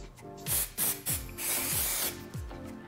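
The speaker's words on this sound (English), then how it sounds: "We are just gonna spray our little twists" Texturizing hair spray containing mica and crystal quartz sprayed onto hair twists in short, loud hissing bursts, about five pumps with brief pauses and one longer spray in the middle.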